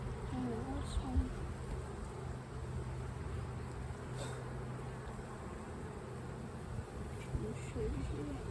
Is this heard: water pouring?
no